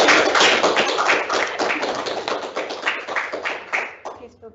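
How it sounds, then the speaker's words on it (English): A seminar audience gives its speakers a round of applause, dense steady clapping from a room full of people that fades out after about four seconds. "I'll have another round of applause for our speakers."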